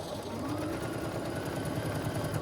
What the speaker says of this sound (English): So let's sew these two together.